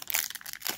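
A MetaZoo trading card pack wrapper torn open by hand, giving a quick burst of crinkly plastic crackling and ripping, close and fairly loud, that pauses and then crinkles again at the end.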